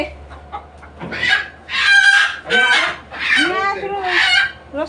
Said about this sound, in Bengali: মুরগি ধরা হচ্ছে এই ছয়খানা মুরগি আছে